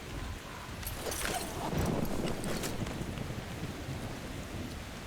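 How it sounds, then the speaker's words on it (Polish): Rain and thunder in the video game Metro Exodus: a steady hiss of rainfall with a rolling thunder rumble and crackle swelling in the middle, then easing back to rain. "Musi padać."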